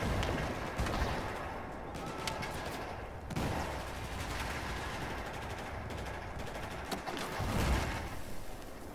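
A tank fires on the player in the video game Battlefield 4, with heavy booming blasts at roughly one, three and eight seconds over a constant roar of battlefield gunfire and explosions.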